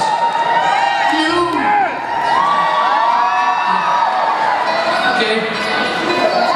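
A large outdoor crowd in Santa Monica cheers and whoops continuously, with shouts and children's voices rising over a steady roar of applause, loud and close throughout.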